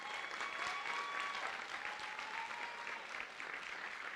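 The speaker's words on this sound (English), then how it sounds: "give them a round of applause if you would as well" Audience applause at a summer school commencement ceremony, steady crowd clapping that fills a large hall, distant and soft, holding an even level for the whole stretch, with a faint whistle or two above it.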